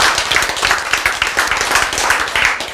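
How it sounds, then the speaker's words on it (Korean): Congregation at a church sermon clapping together, brisk rapid hand claps packed closely, loud and near, continuing evenly without voices over them. "박수."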